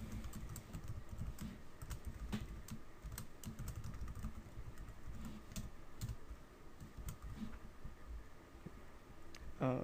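Code being typed on a computer keyboard, a steady run of quiet, close key clicks with a few louder taps.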